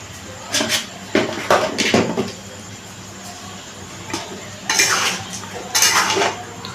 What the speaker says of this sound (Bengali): দিয়ে এটাকে ভালো করে মিশিয়ে নিচ্ছি